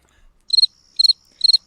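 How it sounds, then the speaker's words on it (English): A cricket-chirp sound effect: three crisp, evenly spaced bursts of rapid high trills against near silence, clean and close. "I didn't get the crickets ready."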